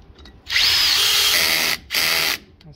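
A power drill whines loudly while air conditioner mounting brackets are being fitted, running in one long burst, stopping briefly, then running again.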